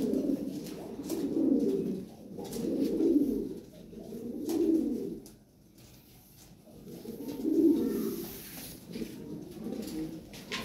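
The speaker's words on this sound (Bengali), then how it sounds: "অনেক সুন্দর কবুতর, পুতুলের মতো সুন্দর" Lahori pigeons in a breeding pair coo in slow, rolling low swells that repeat every couple of seconds, close and fairly soft, with a brief lull midway and no one talking.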